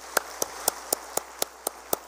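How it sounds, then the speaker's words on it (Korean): Congregation at a Lent special dawn prayer service in a Korean church clapping eight times in a steady, even rhythm, crisp and fairly close, with nobody speaking. "참 귀한 분들 뜨거운 박수로 우리 감사하십시다"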